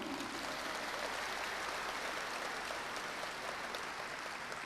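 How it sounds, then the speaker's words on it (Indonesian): An audience at a motivational seminar applauds, giving a faint, even hiss of many hands that sounds distant and stays steady from start to finish. "Tepuk tangan untuk Anda semua."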